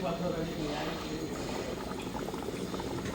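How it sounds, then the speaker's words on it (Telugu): Steady bubbling of a pot of chicken curry on the stove, a dense low simmer that continues evenly throughout. "చికెన్ కర్రీ ఉడుకుతుంది ఇంకా సాంబార్ పెట్టాము సాంబార్ కాగుతున్నాయి"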